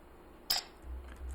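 A single crisp camera shutter click from a Linux screenshot app, short and close, standing alone against a quiet background with faint low hum afterward.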